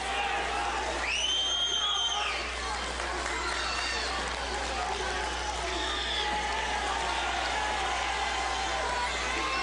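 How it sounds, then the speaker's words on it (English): Lancer home crowd in a school gym cheering after a wrestling pin, a sustained roar with whoops and a shrill whistle early on, while a commentator's voice talks over the noise. "So the Lancer crowd comes alive."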